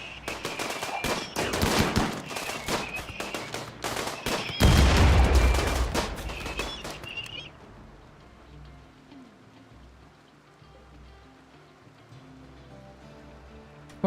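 Rapid bursts of gunfire and grenade blasts from a RimWorld combat fight, dense and loud for about seven seconds with a heavy boom near the middle, then dropping to a faint rumbling background.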